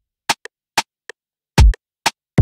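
A rim shot drum sample in an FL Studio beat remake, heard as several sharp, dry clicks in a loose pattern, with a few low booming hits mixed in, all alone without voices.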